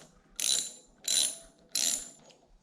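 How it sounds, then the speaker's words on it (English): A ratchet clicks in three separate short bursts of ratcheting as a stock motorcycle bar end is unscrewed, each burst close and crisp with quiet pauses between. "First step, remove the stock bar end."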